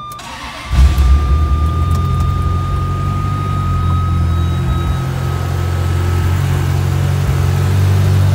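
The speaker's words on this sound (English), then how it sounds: "Cold start." A 1995 Ferrari F355 GTB with gated six-speed manual fires up from cold: a starter whir, then a sharp catch and a loud, steady, rumbling idle held close by.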